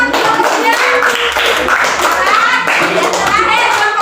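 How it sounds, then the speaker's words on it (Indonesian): Children in a classroom clap their hands together in a busy, fairly loud burst, with young voices chattering over the clapping throughout. "Iya, tepuk tangannya mana seperti kelompok 3?"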